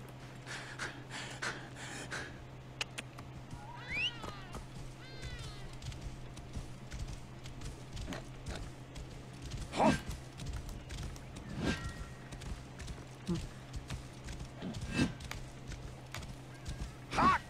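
A horse in Assassin's Creed Origins snorts and gives short, breathy whinnies, close and fairly quiet. Scattered hoof clops and clicks sound over a low ambient hum, with a few louder thumps near the end.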